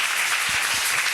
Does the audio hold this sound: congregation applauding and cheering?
yes